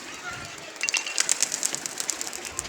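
Kaldumba pigeon taking flight, with rapid fluttering wing flaps and faint bird calls close by, set against light background noise.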